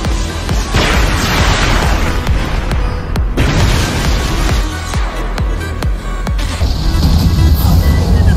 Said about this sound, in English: Devastating explosion.